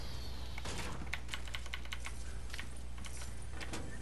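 Rapid clicks from a computer keyboard being typed on, crisp, close and irregular, with a quick burst of keystrokes over a faint low background hum.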